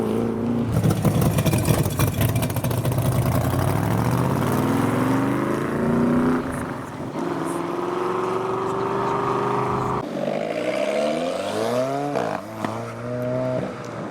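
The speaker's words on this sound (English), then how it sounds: "GT40 and Shelby Daytona Coupe coming up" A Ford GT40 and a Shelby Daytona Coupe drive past one after the other leaving a car show, their engines loud and close with rising and falling revs that sweep through gear changes over a sustained roar.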